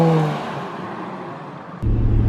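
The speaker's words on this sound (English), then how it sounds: "All right, so we're gonna test drive the Infiniti." An Infiniti with about 170,000 miles on a test drive on service roads, its engine humming low inside the cabin, then a sudden step up to a louder, deeper rumble near the end.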